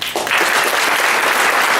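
An audience at a candidate forum in Cameron Park, El Dorado, applauds the three candidates, a dense, steady clapping that starts almost at once and holds at full strength for about two seconds.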